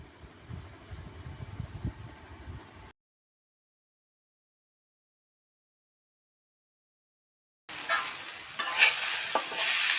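Soaked masoor dal and cut potatoes frying in a pan, with sizzling and stirring in two bursts split by a long silent gap, the second louder and brighter.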